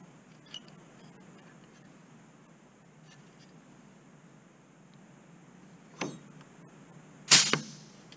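A dimpling tool presses rivet dimples into aluminum aircraft skin on an RV-14A vertical stabilizer build, giving two sharp, close metallic impacts near the end after a long stretch of quiet room tone.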